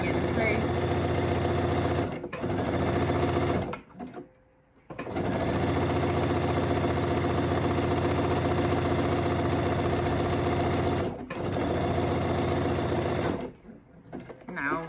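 A sewing machine runs in long, fast continuous bursts with brief pauses between them, stitching the sleeve of a blue mesh flower dress; the mechanical whirr is close and steady.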